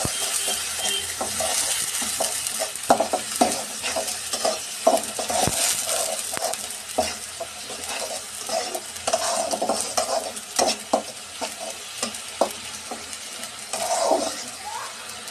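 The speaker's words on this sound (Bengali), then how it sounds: "এর মাঝে এখন আমি দিয়ে দিব পেঁয়াজ বাটা, দিয়ে ভালো করে পেঁয়াজটা কষিয়ে নিব।" Onion paste sautés for a broiler chicken and spinach dish while a spatula repeatedly scrapes and clacks around the pan over a low, bubbling sizzle, the strokes coming in an irregular rhythm up close.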